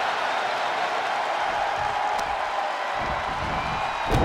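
Wrestling crowd roaring steadily at Bad Bunny vs Damian Priest street fight in San Juan, a dense sustained cheer filling the arena with a brief louder swell near the end.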